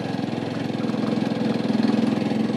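Motorcycle engine pulling uphill in third gear on a ride from Banepa toward Basuki Naag Dada, a steady close low throbbing drone that holds firm and rises slightly in strength toward the end, with no talk.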